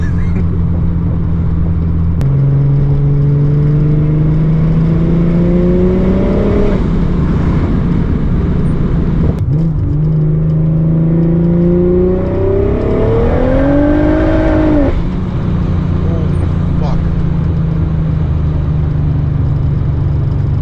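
A turbocharged Mercedes W124, built toward roughly 700 horsepower, revs hard in a loud, close, continuous drone. Its pitch climbs in two separate pulls, then settles back to a steady idle-like hum.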